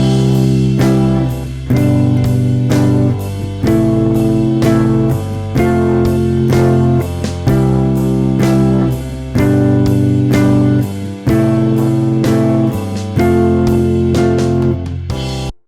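An electric guitar plays spread triads over a backing track, with sustained chords changing in a steady repeating cycle above a full band accompaniment, loud and continuous without any voice.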